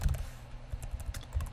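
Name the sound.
typing on a computer keyboard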